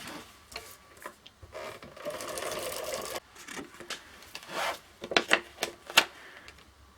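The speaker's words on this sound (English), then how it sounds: "I've got 1/2 inch tape in my gun runner and it is not liking it at all" Adhesive tape runner gun jamming on half-inch tape, giving scratchy rubbing and ratchety clicks in uneven bursts at close range, with a few sharp snaps near the end, no talking.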